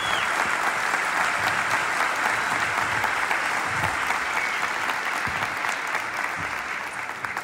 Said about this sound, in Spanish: Le pido un aplauso, por favor.